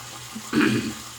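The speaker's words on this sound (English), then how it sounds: "All right, so I'm going to rinse this." A brief splash of running water as a shaving razor is rinsed under a tap, a short burst rising over a quiet steady background hiss.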